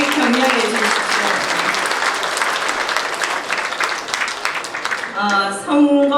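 Sustained applause from an audience at the opening of a Daegu education superintendent candidate's campaign office, steady and dense for about five seconds before a voice takes over at the end.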